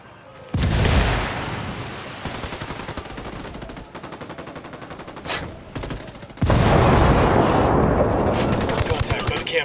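Gunfire and a grenade blast in the Ghost Recon video game: loud bursts of automatic fire rattle on and off, with a heavy, sustained eruption near the end, under occasional shouted voices.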